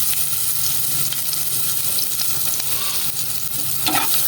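Pork adobo with kalamansi fries in a pan with a steady, loud, close sizzle that runs unbroken throughout, with faint stirring clinks near the end.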